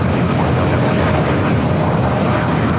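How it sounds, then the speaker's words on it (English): An American Airlines 787-8 Dreamliner jet, flight 27 to Tokyo Haneda, at LAX: a continuous, even engine roar holds at steady loudness throughout, with a faint voice briefly present. "That's the flight heading to Tokyo Haneda, flight 27 on the American 787 8 Dreamliner"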